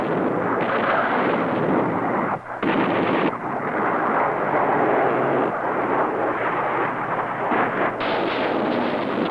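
Close air support fire of rockets, bombs and cannon rumbles as a dense, continuous roar of blasts and aircraft noise, loud and unbroken apart from a brief dip.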